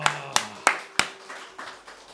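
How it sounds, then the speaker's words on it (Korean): A few people clap their hands in a church setting, four sharp, fairly loud claps in a row, then several softer, more scattered claps that fade out. "박수!"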